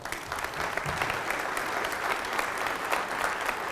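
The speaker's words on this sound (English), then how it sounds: "Let's give them a round of applause." A town hall crowd in Silverthorne, Colorado applauds the police chief and sheriff with a moderate, continuous patter of clapping that holds steady throughout, somewhat distant and without talk over it.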